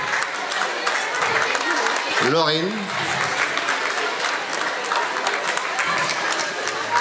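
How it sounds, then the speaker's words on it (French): Sustained applause and clapping from a crowd honouring the coaches runs steadily throughout, while a voice speaks over it to call out a name. "on peut les applaudir, hein"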